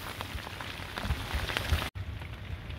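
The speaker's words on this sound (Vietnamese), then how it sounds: "Mưa quá mưa cả nhà." Steady rain falls on a fishing boat in the Mekong Delta, a soft continuous patter with occasional heavier drops, fairly faint and without voices.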